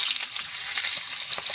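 Jujubes drop into hot spiced oil for a pickle, setting off a bright, steady hiss of frying that stays close and even throughout the short moment with no speech.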